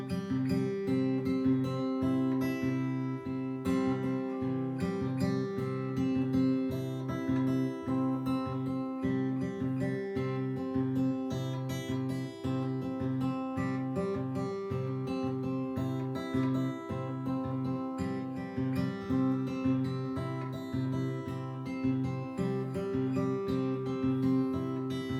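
Guitar played with the pinch technique, the thumb keeping a steady C bass while the melody runs quarter-note triplets against it in a three-against-two feel, plucked notes ringing steadily and close throughout, no talking.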